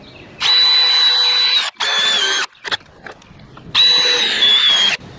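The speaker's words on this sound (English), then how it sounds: "So we're going to put a few of these really awesome T30 Torx bolts in there." A power drill drives T30 Torx bolts into a wooden post while a rotted building pole is being replaced. The motor whines loudly in two long runs and a few short blips, close up, with no talking.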